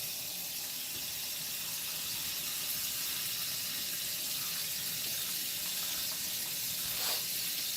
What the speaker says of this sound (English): I'm going to let it run over the top of the pot and continue to pour